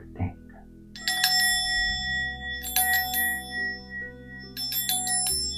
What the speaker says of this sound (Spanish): Y cierro la meditación con un simple toque de cuenco